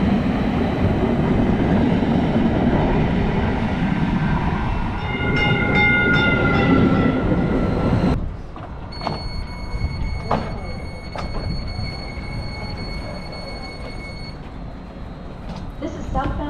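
Caltrain commuter train at a station platform, with a loud rumbling approach and rolling noise followed by tonal chimes and an onboard stop announcement voice.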